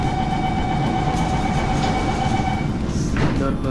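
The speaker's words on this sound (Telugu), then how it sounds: "సూపర్ ఫాస్ట్ ఎక్స్ప్రెస్లో ఎలా అయితే ఊగుతుందో అలా ఊగుతూ ఉంది ట్రైన్ కూడా" An underground metro train running at high speed, a steady loud rumble with rail noise and a faint tonal whine throughout, the car swaying like an express train.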